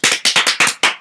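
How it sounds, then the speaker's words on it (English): An audience applauds in a short burst of five sharp, distinct clap-like hits spaced evenly, close and crisp, at a student Harlem Renaissance presentation. "Let's give a round of applause for Mr. Langston Hughes."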